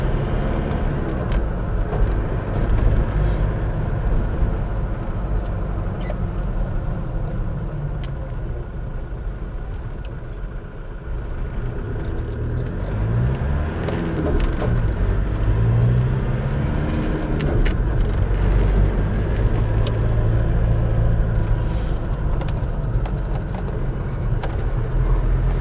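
A Land Rover drives along a road, giving a steady, close engine drone and tyre rumble that holds an even level throughout, with no talking.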